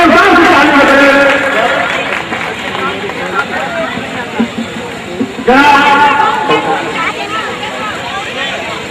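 Audience at a Muslim community mass wedding ceremony bursts into loud, sustained applause and cheering that dips, then surges again midway, with crowd hubbub throughout.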